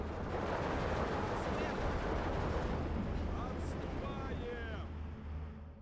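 Mortar and artillery fire in the Steel Division 2 war game: a continuous dense rumble of distant booms and gunfire, with a few faint whistling shells near the end.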